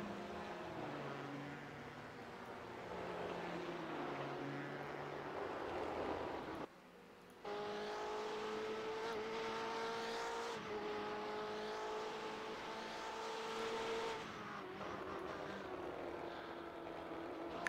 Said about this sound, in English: Beautiful sound of the BMW when it goes, you know, down the gears and you lift the throttle, as Alex Traynor is in the pits